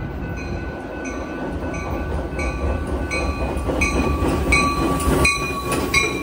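A train of original Pullman passenger cars rolls past at night, a steady loud rumble with rhythmic clacking wheel hits and bright metallic squeals, continuous throughout with no talk.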